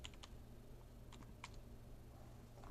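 Someone types on a computer keyboard at a desk during a software session: a few quick, faint clicks in small bursts with pauses between, and no talking.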